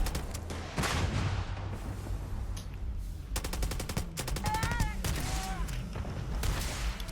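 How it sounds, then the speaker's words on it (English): Rapid gunfire and grenade-launcher blasts in a Starfield firefight, dense bursts of shots crowding the middle and later stretch, with brief talk over the steady noise of combat. "Guy's got a grenade launcher or some shit"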